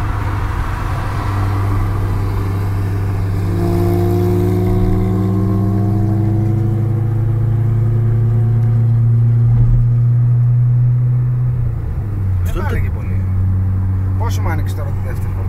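A supercharged Porsche 997 S, up against a 450 bhp Seat Leon, revs hard and steadily, its engine tone climbing and holding before dropping back to idle. Voices talk over it near the end.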